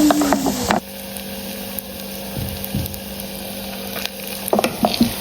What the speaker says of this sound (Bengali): চট্টগ্রাম সি বিচের স্টাইলে আজকে বড়াগুলো ভেজে নিচ্ছি আমি দিয়ে খাওয়ার জন্য।